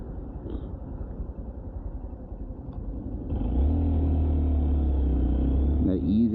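A 2023 Honda Monkey motorcycle's small engine rumbles nearby during a test ride, first at a steady idle-like chug, then rising into a louder, sustained drone as the throttle opens and it pulls away.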